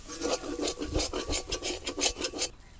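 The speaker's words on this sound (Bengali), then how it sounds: "এবার মশলার সাথে ভালো করে কষিয়ে নিচ্ছি আলুটাকে।" A spatula scrapes and stirs potatoes with spices in a hot pan over low heat, a steady run of rhythmic rasping strokes, close and fairly loud, with no voices.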